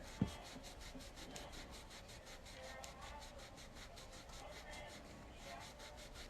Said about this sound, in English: So I'm just polishing this up real quick.